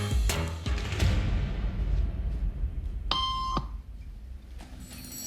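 A loud electronic beep tone sounds once, used as a signal in a social conformity experiment, standing out clearly over a busy room background for about half a second.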